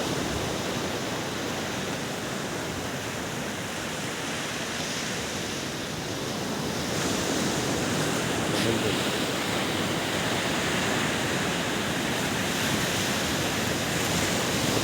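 Ocean waves breaking on Vizag beach, a loud, continuous roar of surf with no break and no voices.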